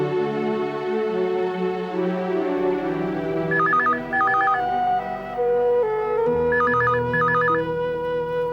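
An electronic phone ringtone in a Zee TV Hindi serial sounds in two bursts of rapid trilling beeps, each a couple of rings long, over loud dramatic background music.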